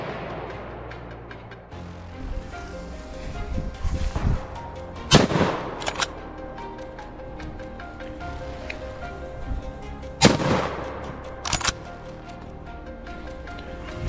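Rifle shots ring out while hunting wild boar on an open field, with two sharp, loud reports about five seconds apart, each followed by a short echo, over a background of wind and rustling.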